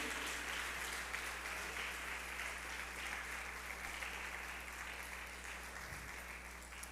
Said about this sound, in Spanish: Dele palmas al Rey de la Gloria